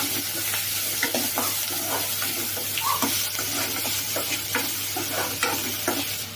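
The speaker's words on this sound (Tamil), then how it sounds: "இப்போ இதை வதக்கலாம்." Tomatoes sautéing in a pan for a traditional sankara fish curry, with a steady close sizzle broken by repeated scraping stirs of a spoon throughout.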